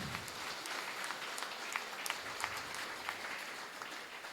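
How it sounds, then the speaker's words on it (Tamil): An audience at a Tamil pattimandram debate event claps together in sustained, dense applause, many hands patting quickly and evenly at moderate distance for several seconds, with no voices standing out. "நல்லா கைத்தட்டுங்க."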